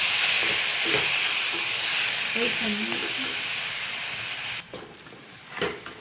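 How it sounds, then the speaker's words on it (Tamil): A ground coconut paste sizzles and hisses in a hot pan as it's stirred, a steady frying crackle that drops off near the end. "அரைச்ச விழுதை அதில் போட்டு நல்லா வதக்குங்க."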